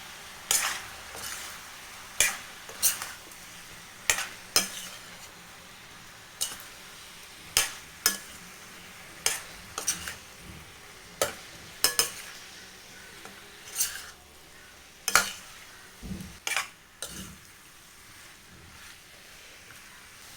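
Chicken with chicken masala and garam masala being stirred in a pan: a spatula clanks and scrapes against the metal in regular strokes over a soft background sizzle, with no talking.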